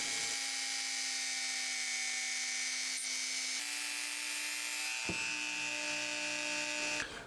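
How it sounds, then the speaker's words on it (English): Rotary tool fitted with a polishing wheel, buffing the inside of a gold ring: a steady high electric whine that shifts pitch slightly as pressure changes, with a brief sharp knock near the end. "To get the inside to a mirror finish, I have to use a polishing wheel on a rotary tool."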